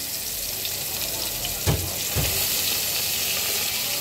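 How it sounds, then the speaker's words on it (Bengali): Fish sizzling steadily in hot oil in a clay pan, a broad continuous hiss throughout with a couple of soft splashy pops near the middle as pieces go in. "মাছটাকে ভাজার জন্য মাটির কড়াইতে আমি তেল গরম করতে বসিয়ে দিয়েছিলাম।"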